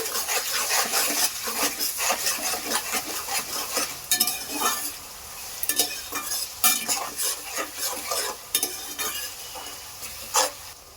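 Chilli powder, salt and sugar are stirred in a hot frying pan, with a quick, rhythmic run of metal spatula scrapes and clinks over a continuous close sizzle.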